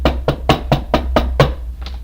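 Knocking on a door: seven loud, close thumps come in a fast, steady rhythm, with a brief pause before the last, softer knock.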